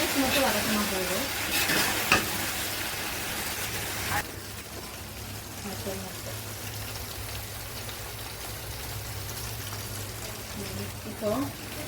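Coriander leaves sauté in hot oil in a pan, giving a loud, steady sizzle as they are stirred and tossed, with a voice talking over the cooking.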